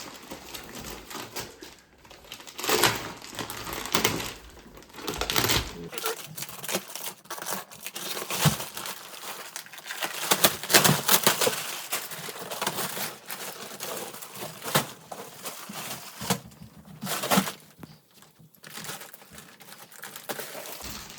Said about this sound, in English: Use a pair of scissors so you can cut the actual fabric of the mattress.